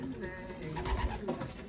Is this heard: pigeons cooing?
yes